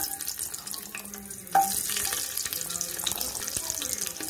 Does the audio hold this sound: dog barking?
no